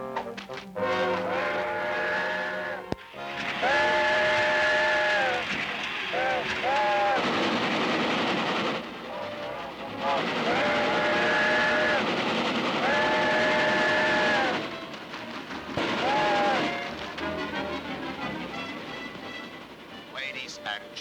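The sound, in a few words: train running on rails, from a cartoon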